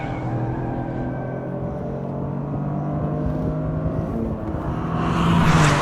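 A 2024 Toyota GR race car, GR Corolla or GR86, accelerates hard on a track, its engine droning steadily up close with road and wind roar, then swelling louder in the final second.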